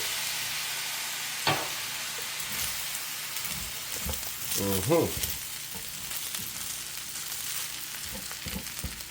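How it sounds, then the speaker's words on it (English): Jerk salmon fried rice sizzles and crackles steadily in a hot pan as soy sauce goes in, with stirring scrapes and a brief burst of louder frying midway. "Now I'm gonna add in the soy sauce."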